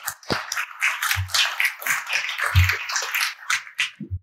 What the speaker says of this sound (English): if you could help me give him a round of applause